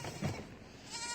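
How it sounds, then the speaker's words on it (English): Goats in a paddock give a short bleat near the start, then a quieter bleating call follows in the open outdoors. "And here's the goats."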